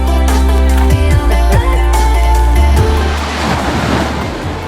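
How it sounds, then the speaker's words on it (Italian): Cold Pacific Ocean surf rolls in at Shiretoko, Hokkaido, loud and close, with repeated waves breaking and washing back amid wind noise on the microphone and no one speaking. "Il gelido Oceano Pacifico di Shiretoko, che ghiaccia anche un paio di mesi all'anno."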